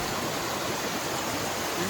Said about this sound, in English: This little brook here runs into that one down there.